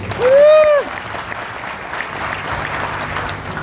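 Seminar audience in Gorakhpur applauding: steady, moderately loud clapping from a crowd, with a brief whistle-like tone and voices at the start before the applause carries on alone.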